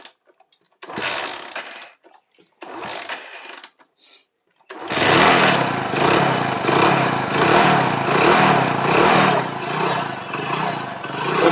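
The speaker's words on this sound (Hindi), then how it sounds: "सुन सकते हैं इंजन की जो साउंड है" A few sputtering kick-start attempts, then a Hero HF Deluxe motorcycle engine catches and idles steadily with a rhythmic, pulsing putter, fairly loud and close.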